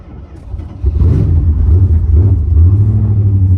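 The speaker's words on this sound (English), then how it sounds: "this is a sweet running 360" An abandoned 1971 Plymouth Fury's 360 engine, revived after more than 20 years, runs close by with a loud, steady low rumble that swells up after a brief start.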